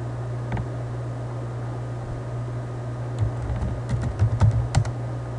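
Someone types a Linux passwd command on a computer keyboard over a steady electrical hum, with a single early keypress and then a cluster of quick key clicks near the end, close and light, with no talking.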